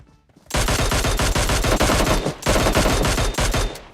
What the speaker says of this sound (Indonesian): Nah dia nembak apa tuh kok meledak suaranya?